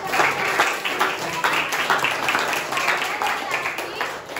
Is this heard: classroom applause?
yes